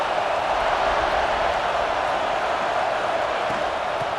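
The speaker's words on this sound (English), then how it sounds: "The roar of the crowd trying to fuel this defense to keep them pinned in their own end." A steady, broad roar from a large football stadium crowd urging on the defense during Army versus Florida, dense and unbroken at constant loudness throughout.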